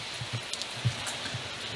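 Rain patters steadily with scattered soft drops and taps, a constant wet hiss at moderate distance and no voices.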